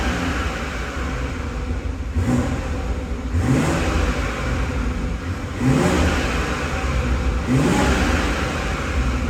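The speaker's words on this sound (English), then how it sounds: "when the car's under load, you get much more of a burble from the engine" A BMW X4 M40i engine with sport exhaust revs repeatedly, each throaty rise swelling then dropping, with a deep burbling exhaust rumble underneath throughout.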